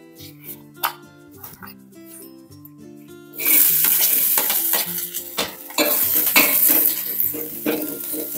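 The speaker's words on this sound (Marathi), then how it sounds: "छान कांद्याला आपल्याला परतून घ्यायचं आहे।" Oil and onions hiss and sizzle loudly in a hot pan after a quieter start with light clinks, with scraping stirs and utensil knocks throughout.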